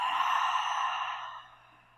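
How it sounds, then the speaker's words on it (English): A single deep exhale through the mouth during a vinyasa yoga practice, a long breathy sigh close to the mic that fades out over about a second and a half. "Hold it at the top, and exhale through the mouth."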